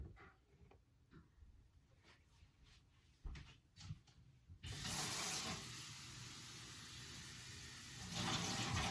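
Water pours into a cup as a recipe for red candy apples is prepared, a steady splashing fill that begins midway after faint ticking kitchen noises and runs to the end.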